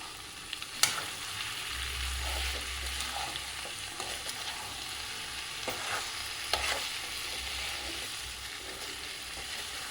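Spiced arbi (taro) curry is stirred in a pan over a soft, low sizzle, with a spoon scraping and tapping now and then, close but quiet.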